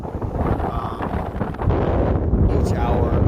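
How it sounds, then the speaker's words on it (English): Cold, steady wind blowing on the Appalachian Trail, a continuous rough roar buffeting the microphone, growing slightly stronger partway through, with no talk. "it's still super cold and windy"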